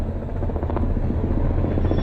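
Police helicopters pass overhead with a loud, close rotor thump and a low engine roar. The sound stays strong and steady through the short burst.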